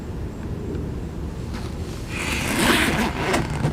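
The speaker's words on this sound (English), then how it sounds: "Should be right here, and you can lock these zippers." A zipper on a padded rifle case is pulled in a few short scraping strokes, close and moderately loud over a low background rumble.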